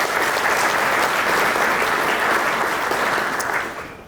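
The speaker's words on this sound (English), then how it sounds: "So let's give them a round of applause, please." Sustained audience applause at a mayor's State of the City address, a dense steady wash of clapping that fades out near the end.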